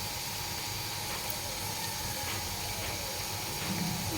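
Cauliflower pakoras frying in hot oil, giving a steady, even hiss and soft crackle that holds throughout without pause.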